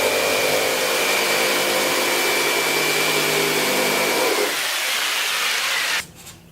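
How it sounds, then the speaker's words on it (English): A jigsaw cuts through roof insulation for a teardrop trailer build, a loud continuous buzzing whine that drops away near the end as the cut finishes and the saw stops. "I found the easiest way to do this is with a jigsaw,"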